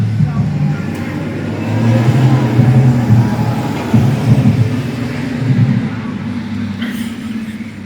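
A small truck rolls past outside a porch, its mid-pitched engine hum rising and falling steadily and fairly close over the whole stretch.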